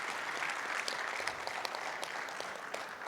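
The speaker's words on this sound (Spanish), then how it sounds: "Un aplauso" Applause from an assembly audience at a weekly movement meeting, dense continuous clapping with sharp individual claps standing out, sustained for a few seconds.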